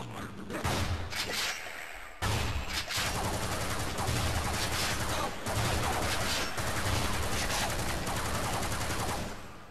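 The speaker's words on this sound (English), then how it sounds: "This turret is just killing everyone" Automated turret in Half-Life VR (Lambda1VR) office complex level hammering out rapid, relentless machine-gun fire, loud and close, broken by a couple of brief pauses and mechanical clatter.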